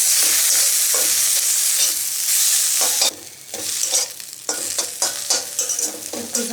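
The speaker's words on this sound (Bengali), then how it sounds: "টমেটোটা আলুর সঙ্গে খুব ভালোভাবে মিশিয়ে নেব।" Chopped tomato and potatoes fry together in a pan with a loud, continuous sizzle, then a run of repeated scraping stirs and clanks from a spoon, close and without talk.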